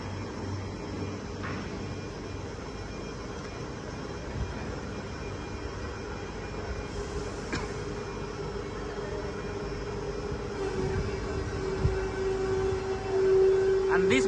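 Steady industrial machine drone as fiber brick-machine pallets are pressed flat, a continuous mechanical hum with faint clanks and a rising grind near the end.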